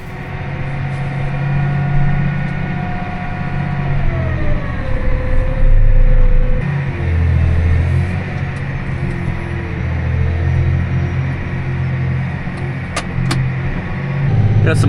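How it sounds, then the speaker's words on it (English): A farm tractor engine drives steadily with a loud, low mechanical drone and some rising and falling whine, close by and continuous, with no one talking. "Bring this tractor back here so Dad can use it to pack if he ever has free time."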